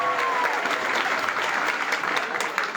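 Warm applause from an audience at a motivational talk, a steady wash of many hands clapping close by, holding even throughout.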